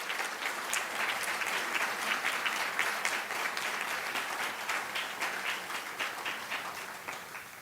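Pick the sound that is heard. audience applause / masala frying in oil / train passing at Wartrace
audience applause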